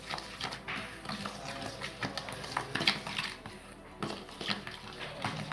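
Semolina pancake batter with curd is stirred in a bowl, giving soft, irregular scraping and tapping of a spoon against the dish. The stirring is quiet and close, with no voices.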